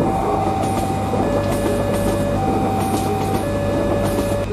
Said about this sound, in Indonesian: terdengar suara kereta yang mau melintas